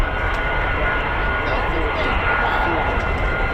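An F-35 fighter jet near RAF Lakenheath gives off a steady, loud, broad jet roar through the whole short stretch, with voices talking over it.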